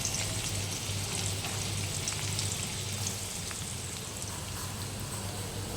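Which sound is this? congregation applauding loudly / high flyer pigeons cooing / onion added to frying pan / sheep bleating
onion added to frying pan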